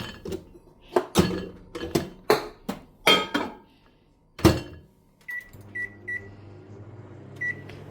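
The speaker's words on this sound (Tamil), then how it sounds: "மைக்ரோவேவில் ஒரு டூ மினிட்ஸ் வச்சுட்டா போகிறோம்" A microwave oven heating lentils starts with a run of sharp clicks and thunks from the door and buttons, then several short electronic beeps over a steady low hum.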